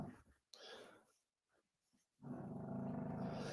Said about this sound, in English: Y'all just going to have to listen to the pug snore.